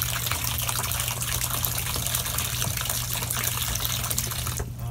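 Tap water gushes steadily into an RV bathtub, a loud continuous close rush that runs the whole time with a slight change right at the end and no voices.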